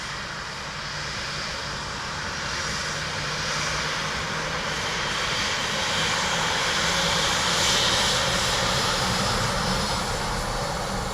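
A Ryanair jet airliner at Dublin Airport roars steadily and loudly, a broad continuous engine rumble that swells slightly toward the middle, heard outdoors with no voices.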